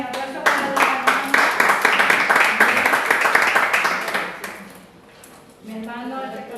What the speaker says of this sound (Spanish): Aplauso para los hermanos.